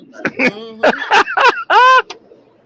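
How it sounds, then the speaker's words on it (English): A rooster crows loudly and close by, a rising then sustained harsh call lasting about two seconds, with no talking. "Rooster."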